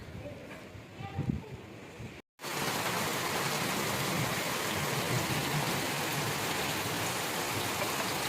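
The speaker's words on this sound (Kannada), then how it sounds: "ಮಳೆ ಶುರುವಾಯಿತು." Rain falls steadily during a week of heavy downpours, a continuous close, even hiss that starts abruptly after a brief quieter stretch with faint background sounds.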